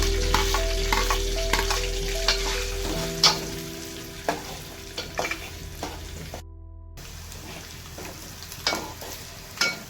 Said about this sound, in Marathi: चांगलं गरम झालेलं आहे, त्यात आपण आता जिरा टाकत आहोत आणि कांदा